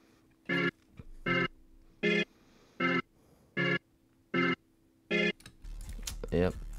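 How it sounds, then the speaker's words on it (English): A Trap Medic kit organ sample for a trap beat in FL Studio plays seven short, evenly spaced sustained chords against a low steady hum, then gives way to a brief burst of other sound at the end. "another Trap Medic sound, this is an organ,"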